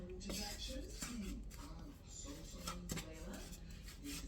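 Brown sugar is stirred into a polvorón mixture in a bowl with a utensil, producing a continuous scraping and clinking of metal against the bowl in uneven strokes, close and fairly quiet, with a faint voice underneath.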